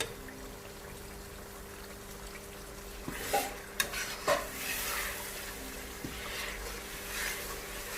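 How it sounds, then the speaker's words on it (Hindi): Ground tomatoes go into a pan of frying chicken and palak, bringing a soft, steady sizzle with a few sharp clatters and a burst of pouring and splashing midway before it settles back to a quiet fry. "अभी ग्राइंड किए हुए टमाटर डालूंगी इसमें।"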